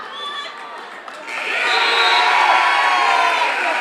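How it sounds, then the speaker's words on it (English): Crowd noise swelling in an arena during the final seconds of a 182-pound high school wrestling championship final, murmuring at first, then rising into sustained loud cheering and shouting. "We hear the crowd picking up some noise"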